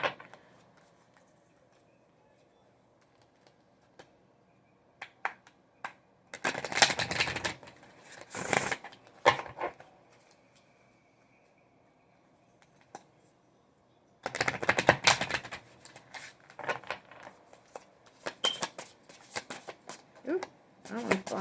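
A tarot card deck is shuffled in two bursts of fast riffling clatter, each a few seconds long, with quiet stretches between and light handling sounds.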